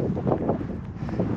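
Cold wind blows across a desolate, cloudy mountain ridge on the Toiyabe Crest in Nevada's Arc Dome Wilderness, a low rumbling buffet against the microphone in a short, steady burst.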